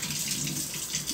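Water runs steadily from a tap while waiting for it to warm up, a continuous close rushing stream with no voices over it.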